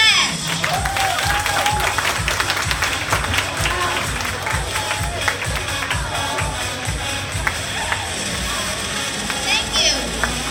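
At a school debate closing ceremony, the audience applauds the prize-winning team with dense, sustained clapping that fills the hall, while a few voices murmur underneath.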